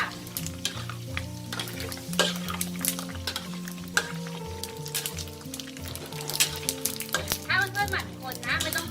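Pork crackling with its fat attached frying in hot oil, sizzling and crackling steadily and close by while it is stirred often, with pan scrapes and occasional sharper pops throughout.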